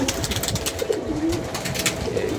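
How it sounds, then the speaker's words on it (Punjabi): Soft, throaty cooing of pigeons close by, several low rolling calls overlapping, with faint rustling and fluttering around them. "ਕਬੂਤਰ ਖੁਸ਼ ਨੇ"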